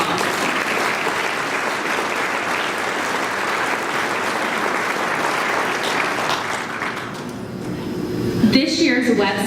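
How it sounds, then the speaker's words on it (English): A crowd at a chamber of commerce awards event claps in sustained, dense applause for several seconds, with a few voices and a brief swell near the end. "Let's give them all a round of applause."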